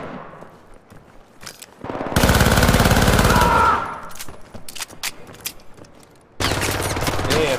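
Automatic gunfire in the video game Syndicate, with a long loud sustained burst, scattered single shots, then another heavy burst, close and dominant.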